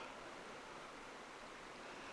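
A creek flows along a trail with cliffs and rocks in the water, giving a steady, even rush of moving water, moderately faint and continuous with no voices.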